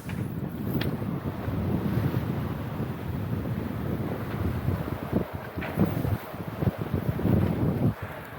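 Steady wind buffets the microphone aboard a sailboat at sea on a grey, drizzly day, a continuous low roar with gusty swells and brief rattles, no voices.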